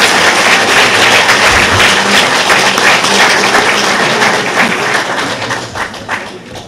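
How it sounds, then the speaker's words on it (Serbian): An audience applauds the Vidovača association at an event in Smederevska Palanka, with loud, dense clapping from a crowd that holds steady and then gradually thins out toward the end. "voleo bi da ih pozdravimo jednim gromkim aplauzom"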